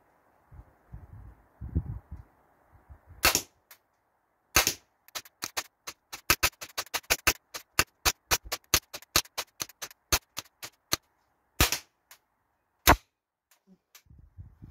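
Umarex HK416 A5 airsoft rifle firing at targets: a long string of sharp, close snapping shots in irregular bursts and singles, some rapid, with a quiet stretch of handling noise before the shooting begins.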